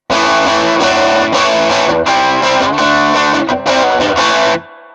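A loud, heavily distorted electric guitar through a cranked Birdsong Amps Kestrel, a 57 Tweed Princeton-style amp with both knobs on 8, plays chugging chords with a thick overdriven tone, then cuts off and rings briefly into silence.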